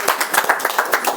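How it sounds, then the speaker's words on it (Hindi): A church congregation at a Sunday prayer meeting claps hands together in a quick, even rhythm, close and fairly loud, with no talking. "ताली बजा के करिए।"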